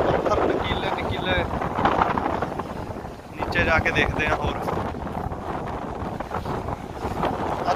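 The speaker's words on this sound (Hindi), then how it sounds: "अज हवा बहुत ज़्यादा तेज चल रही है, बहुत तेज हवा चल रही है अज" Strong wind buffets the microphone at a rocky beach in Cyprus, a loud continuous roar with gusts rising and easing, and someone speaks briefly over it.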